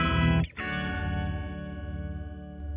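Guitar through a Walrus Audio Luminary quad octave generator pedal on its front panel setting, a thick chorused octave-stacked chord that restarts once, then sustains with a gentle wavering shimmer, played alone.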